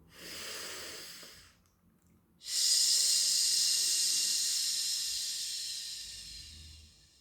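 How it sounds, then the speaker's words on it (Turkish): One slow breath drawn in and let out close to the microphone, a short soft inhale followed after a pause by a longer, louder hissing exhale that fades gradually. "Önce bir nefes alıp veriyorum."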